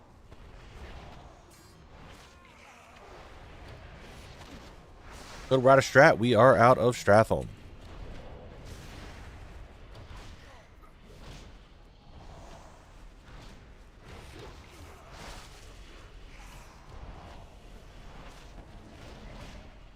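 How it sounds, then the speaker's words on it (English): Cannon fire in World of Warcraft while leaving Stratholme: a loud burst of booming shots lasting about two seconds, rising sharply over game sounds, with someone talking before and after. "the cannon is just fucking things up"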